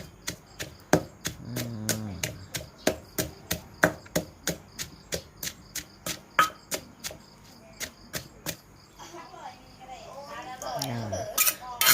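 A pestle pounds spice paste in a mortar for a Thai rat curry, giving about two dozen sharp, evenly spaced thuds close by, then clattering as a voice speaks near the end.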